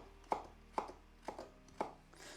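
A knife chops carrots into strips on a cutting board, four crisp evenly spaced thuds close up and fairly quiet, with no voice over them.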